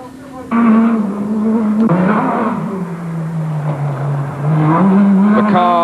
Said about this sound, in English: The cars were the rage today with a glorious sounding V6 engine of Jean-Louis Schlesser barreling through the small villages